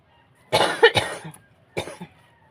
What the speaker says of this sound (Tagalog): Di ko mapigilang umubo.